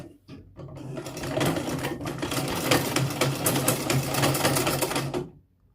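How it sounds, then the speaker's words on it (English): A domestic sewing machine runs steadily for about four seconds with a fast rattling, clicking mechanism as the balance wheel is turned, starting and stopping cleanly without talk. "Now you set to sew and you turn the balance wheel towards you and see what"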